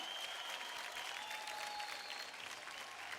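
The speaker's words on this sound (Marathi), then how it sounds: "जोरदार टाळ्या होऊन जाऊ द्या पुण्यकरसाठी" A studio audience at a dance competition show claps steadily in a dense, even burst of applause, fairly distant and uniform throughout.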